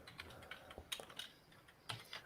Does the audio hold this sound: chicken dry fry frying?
no